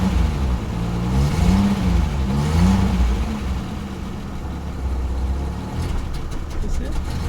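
A Peugeot 505 V6 with a manual gearbox, being revived after sitting dead, revs unevenly near the mic, the engine note rising and falling in a few surges before settling into a rough idle.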